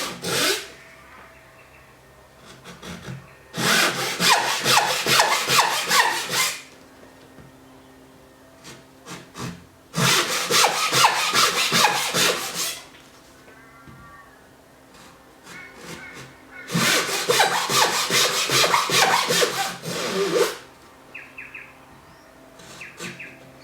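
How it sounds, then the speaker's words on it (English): A Japanese hand saw cuts kumiko joints in wood in three long bursts of rapid, rhythmic rasping strokes, each several seconds long and close up, separated by quiet pauses with faint birdsong in the background. "This is my normal speed for cutting the joints."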